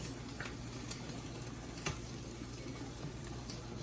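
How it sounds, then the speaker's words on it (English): Homemade spaghetti sauce gets stirred with a spoon in a pot, a soft, even bubbling and scraping with a few faint clicks, quiet and steady throughout. "Had to get me a spoon, so I'm gonna stir this up just like this."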